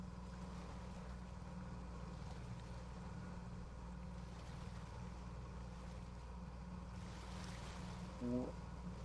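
Steady low engine drone and water wash from a boat in a virtual world demonstration, continuous and moderately loud, with a brief tonal blip near the end.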